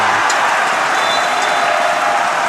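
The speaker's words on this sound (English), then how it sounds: "The crowd here are loving that block from Ethan Liu." A basketball crowd at a national schools boys' final roars after a blocked shot, a loud, dense, sustained cheer that fills the whole moment without letup.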